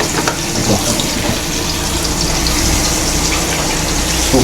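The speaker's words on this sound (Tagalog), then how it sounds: "ibabad ko na to ng suka" Vinegar poured over fish to soak it, a continuous loud gushing splash of liquid with a steady, unbroken flow throughout, close up and without talking.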